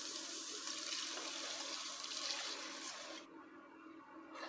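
A cup of water is poured into a pan of wazwan-style mushroom masala, making a steady rushing splash that runs for several seconds before cutting off into quieter bubbling.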